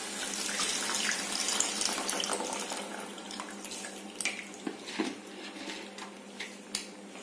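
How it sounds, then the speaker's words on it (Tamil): Tamarind water is poured into a pan of curry-leaf kuzhambu as a steady splashing stream. It then thins into scattered drips and small splashes, close by with no talk. "புளி தண்ணி இதில் ஆட் பண்ணிக்கோங்க."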